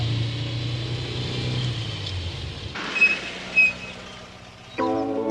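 A cartoon car drives up along a road, its low engine rumble steady and fairly close before fading, followed by a few brief higher tones.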